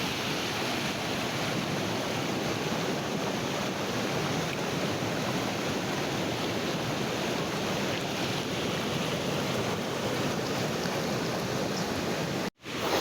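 Kappimala waterfall in Kannur on a rainy day pours with a steady, loud, unbroken roar of rushing water, nearly uniform throughout with a brief dropout near the end.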